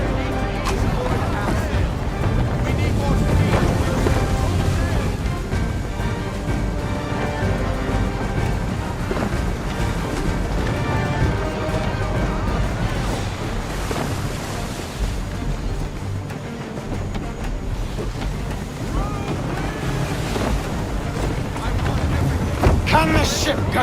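Sailing ship at sea in the video game Assassin's Creed III, a continuous roar of waves, surf and wind rushing around the hull, loud and steady throughout, with voices talking over it.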